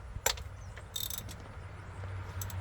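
A few quiet, quick ratcheting clicks from a 10mm socket ratchet loosening bolts on a Cummins 5.9 diesel engine, with short metallic bursts over a faint low hum.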